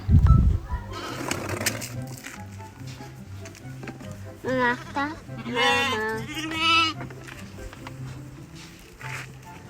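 Lambs bleat several times in short, wavering cries, fairly close, with a steady low engine-like hum and some background noise.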